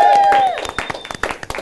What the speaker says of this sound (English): what about a round of applause for Mr. Sean Perry, the host of Planet Unearth